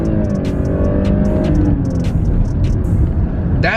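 A 2018 Lexus LS500h hybrid sedan accelerates hard, its engine note loud and close from inside the cabin, a strong rising drone climbing steadily in pitch over a few seconds.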